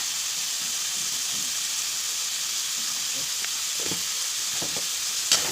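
Chopped tomatoes sauté with salt and turmeric in a hot pan, giving a steady, close sizzle and hiss with occasional light stirring clicks and a sharp tap near the end.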